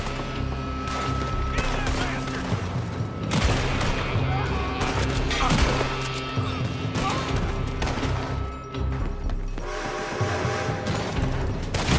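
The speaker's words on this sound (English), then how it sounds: "They're shooting from that building." Gunfire in Red Dead Redemption 2 rattles on continuously, dense volleys of close, loud shots and bursts piling over one another with booms and mechanical clatter mixed in, and voices calling out now and then beneath the din.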